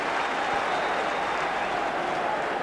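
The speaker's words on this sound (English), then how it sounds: "Every tackle will be applauded" Steady crowd applause at a Scottish Premier Division play-off match between Aberdeen and Dunfermline Athletic, greeting a tackle; dense, even clapping and crowd noise held throughout, loud and broad with no pauses.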